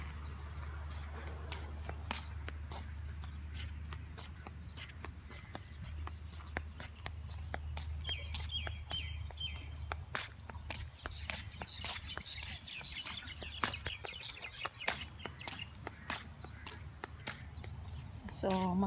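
Small birds chirp and tweet in short, scattered calls near a seaside spot at Jebel Sefah, moderately faint over a low background rumble and footsteps, with someone talking throughout.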